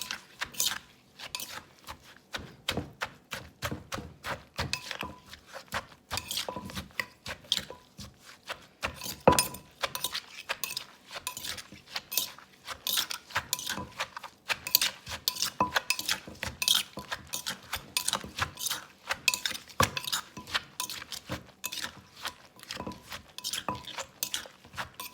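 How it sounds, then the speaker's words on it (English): Utensils clatter and clink rapidly while Thai-style spicy papaya salad ingredients are mixed together, a busy close run of scraping and tapping against a bowl with no talking. "Now you gotta mix everything together again."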